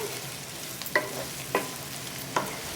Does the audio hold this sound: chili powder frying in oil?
yes